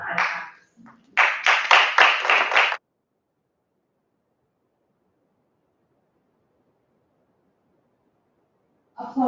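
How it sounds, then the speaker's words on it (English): A short burst of audience applause follows a talk at a philosophy conference, lasting under two seconds after a few scattered opening claps. It is then cut off by near silence. "Applause"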